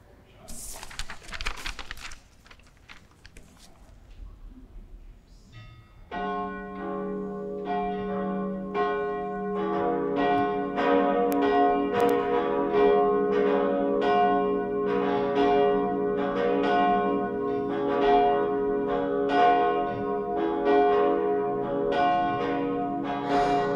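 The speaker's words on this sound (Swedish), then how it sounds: "Låt oss nu lyssna till klockringningen." Cathedral church bells ring during a Sunday high mass for the feast of John the Baptist, entering after a few seconds of quiet room noise and then tolling loudly and repeatedly in an overlapping, resonant peal.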